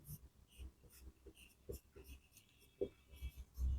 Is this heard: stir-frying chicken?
no